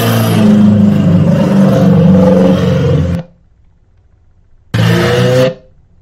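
A loud car engine roars close up for about three seconds, cuts off, then revs again briefly before going quiet.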